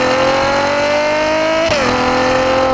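Ferrari GTC4Lusso with a 6.3-litre engine, a loud, close, sustained howl climbing steadily in pitch, then dropping sharply at a gear change before pulling on again.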